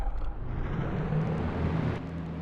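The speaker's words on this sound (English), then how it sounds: "these cars sound an awful lot like the cars in the Empire race" Race car engines from a racing video game, a muffled continuous engine drone and whir of a car field with a slight rise in revs, moderately quiet and steady.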